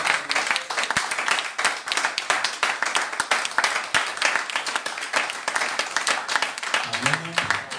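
A church congregation applauding for the glory of God, steady rhythmic clapping from many hands filling the room, loud and continuous, with a voice briefly heard at the end.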